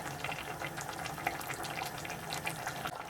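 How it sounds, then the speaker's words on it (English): Broth pours into a simmering Thai red curry with coconut milk, giving a soft steady liquid splash and bubbling hiss, faint and close, with no talking. "add the remaining broth."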